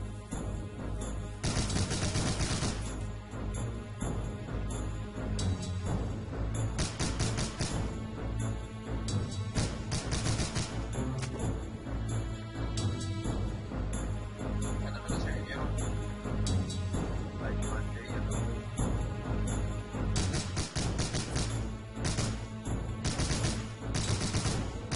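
Battlefield gunfire in the World War II strategy game Soldiers: Heroes of World War II, steady volleys and bursts over a long stretch mixed with a busy game soundtrack, with voices shouting.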